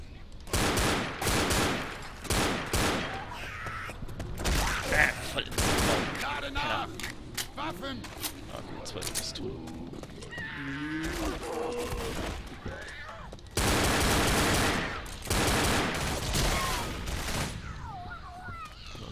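An Uzi submachine gun fires in Left 4 Dead in loud rapid bursts with short gaps between them, alongside other game noises and a voice talking in between.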